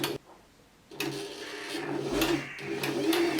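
A Janome My Style MS22 sewing machine stitches a buttonhole after a brief quiet start, its motor whirring in a close, steady mechanical run with faint ticking and small shifts in pitch as the stitch changes direction.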